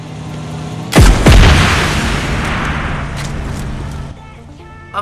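RPG rocket launcher firing in PUBG Lite: a sudden loud blast with a sharp whooshing sweep, followed by a long rumbling roar that slowly fades, then a quieter tail with a small pop at the end.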